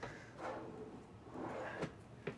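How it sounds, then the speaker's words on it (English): A soft-close solid hardwood drawer in a 2022 Newmar New Aire 3545 Class A motorhome slides open, a quiet, close rubbing glide with a couple of light knocks near the end. "Open this up, have some separated storage here in that drawer. Soft closed drawers as well."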